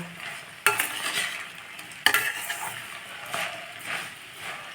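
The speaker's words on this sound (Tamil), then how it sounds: "கொஞ்சம் ஏலக்காய் இதை நல்லா வறுத்துக்கலாம் இப்போ" Cardamom dry-roasting in a pan for a sweet chana dal poli: soft scraping stirs with a faint sizzle underneath, broken by two sharp clinks of a spoon against the pan.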